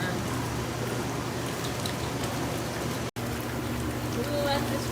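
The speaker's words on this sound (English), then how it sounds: "Let the jets run." A MAAX jetted bathtub runs its jets with water and detergent, giving a loud, steady rushing churn with a low motor hum beneath and one brief dropout near the middle.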